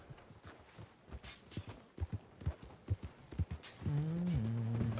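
Hooves of a horse in Red Dead Redemption 2 roleplay clop in a steady, fairly faint rhythm as it approaches, ending in a loud, drawn-out neigh close by.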